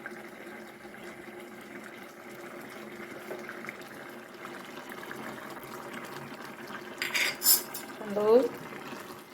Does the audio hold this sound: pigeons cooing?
no